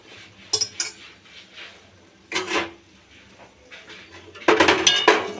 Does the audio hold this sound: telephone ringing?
no